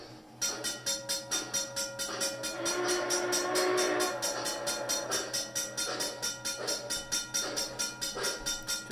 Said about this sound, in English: whenever I stop the train and restart it, the gate will go back down